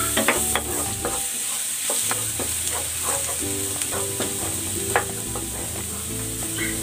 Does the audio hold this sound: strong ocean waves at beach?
no